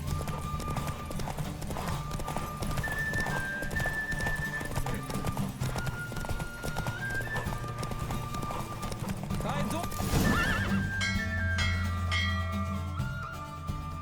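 Horse galloping in a race in The Witcher 3: Wild Hunt, with rhythmic clip-clop hoofbeats, whinnies and game music, under loud continuous talk.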